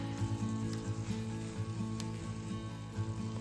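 Butternut squash risotto sizzles and bubbles in a pan over medium heat while it is stirred, giving a steady close frying hiss with soft irregular scraping pulses and no talk.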